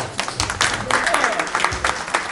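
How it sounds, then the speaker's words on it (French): An audience claps for the mayor after his speech at the ACAJ event in Valenton, a dense run of hand claps at moderate loudness lasting a couple of seconds. "Applaudissez pour monsieur le maire encore une fois"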